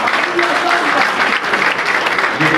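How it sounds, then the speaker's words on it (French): Audience applause at a French-language ceremony or gathering, honoring doctors: steady, dense clapping from many hands filling the whole stretch at a loud, even level. "que je demande à l'assistance d'applaudir."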